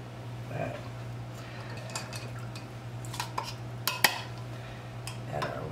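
Metal lids are set onto glass canning jars while pressure canning breakfast sausage, giving a few sharp clicks and clinks over a steady low hum, with the clearest taps near the end.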